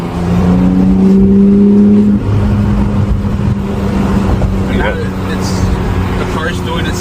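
Porsche 911 GT3 engine running steadily while driving, a loud sustained tone that steps down after about two seconds as it shifts gear, continuing as a strong drone beneath a talking voice.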